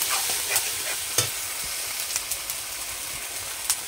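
Spiced marinated chicken frying in a pan as it is stirred, a continuous bright sizzle broken by repeated scraping and clinking strokes of a spoon against the pan at an irregular pace, no talking.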